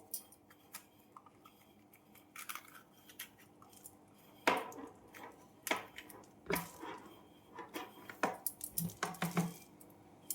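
A knife cuts bell peppers for stuffing on a board, and the seeds are scraped out. Irregular sharp taps, clicks and small clatters come in quick uneven bursts, close and fairly light, with quieter rustling between them.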